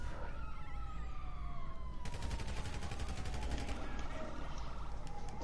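Gunfire in Grand Theft Auto: a rapid burst of shots in the middle, over a steady game soundscape of hum and faint siren-like tones.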